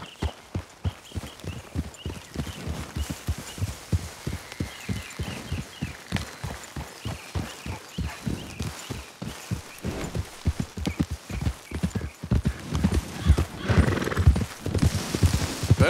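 Horse riding in Red Dead Redemption, a steady rhythmic clip-clop of hooves at a brisk gait, close and loud, with occasional snorts and a whinny, the hoofbeats growing heavier toward the end.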